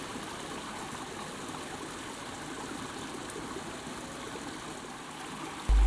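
Water flows steadily through a hotel garden in Bukittinggi, Sumatra, making a continuous close rushing and trickling wash with no gaps.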